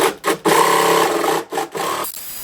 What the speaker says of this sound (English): drill a couple holes to give my jigsaw blade some room